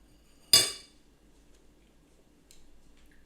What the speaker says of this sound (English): Let's just use this spoon here.